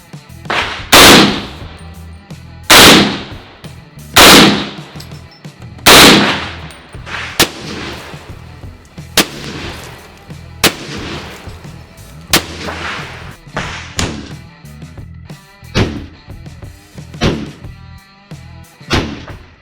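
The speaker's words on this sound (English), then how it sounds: "All right, M1 Carbine, the trusty M1. Here we go. Versus the watermelon this time." An M1 Carbine rifle fired outdoors at a watermelon: a dozen or so sharp, loud gunshots in an uneven sequence, the early ones spaced apart with booming decay, later shots coming quicker and slightly softer.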